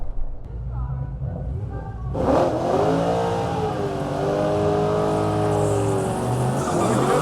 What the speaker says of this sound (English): Burn out now, Normie.